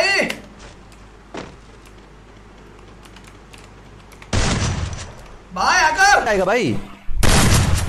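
Rapid bursts of gunfire from an online shooter game, with a few sharp early shots followed by dense, loud volleys near the end, while someone talks excitedly between them.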